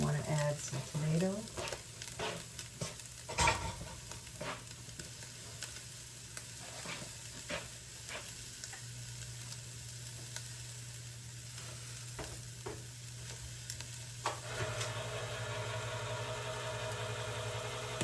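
Onion stirred into a hot pan while home cooking, giving a steady close sizzle and frying hiss with scattered scraping and clacking stir sounds throughout.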